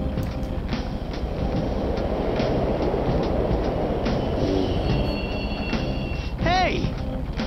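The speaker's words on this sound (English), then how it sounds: "The train's totally running." A subway train runs steadily in the Persona 5 video game, a continuous loud rumble and clatter of rail cars with a brief squeal of wheels near the end, and no speech.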